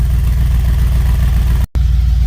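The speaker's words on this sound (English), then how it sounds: "twin turbo V8 idling, that sound will never get old" Deep, throbbing idle of a Mercedes G63 twin-turbo V8, loud and close, with a steady low rumble and a momentary cut near the end.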